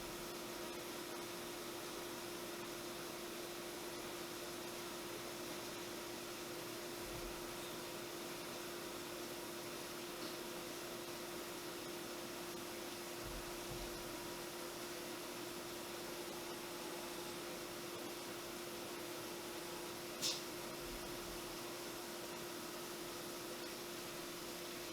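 A milling machine set up as a lathe rough-cuts the outside profile of a spinning part, giving a steady, even machining drone with a constant hum and one brief sharp tick.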